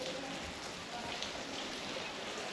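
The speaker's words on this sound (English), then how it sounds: "It's raining." Steady rain falls outdoors at a lodge in Zorzor, Lofa County, a dense, even hiss that holds without pause at a moderate, close level.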